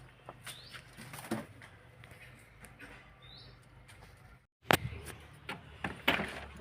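Pigeons stir in a coop, with soft coos, wing flaps and scattered knocks and scuffles, plus a brief silent gap midway.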